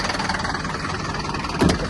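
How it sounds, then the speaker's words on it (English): A 2016 Optare Metro City low-floor service bus idling on its Mercedes 4-cylinder OM422 engine, giving a steady, close diesel rumble with a brief louder surge near the end. "there's the Mercedes engine."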